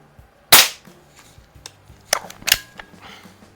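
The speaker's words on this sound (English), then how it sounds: "it just amazes me when I shoot this gun" An air pistol, a Daisy 717 or Diana model 6, fires pellets: a sharp close crack, then a few softer clicks and a second snap, with no talk.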